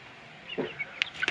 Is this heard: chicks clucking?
yes